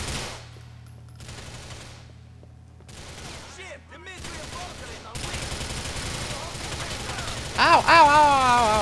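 Bursts of automatic gunfire from a warehouse ambush shootout in Grand Theft Auto IV, coming in clusters of rapid shots amid game effects and a loud blast near the end, with a voice in places.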